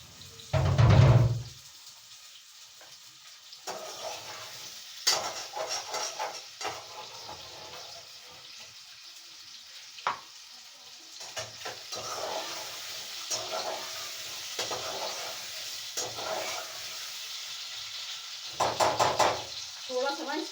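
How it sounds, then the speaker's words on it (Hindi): Potatoes frying in a pan, an intermittent sizzle with stirring and scraping across a long stretch, a loud knock near the start and a burst of clatter toward the end. "ये आलू फ्राई कर लें।"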